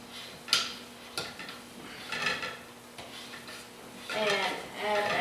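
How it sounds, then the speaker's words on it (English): A spoon stirs a soap mixture in a pot, giving scattered scrapes, clinks and knocks against the container, close and fairly quiet, with a few brief louder clatters. "give it a stir"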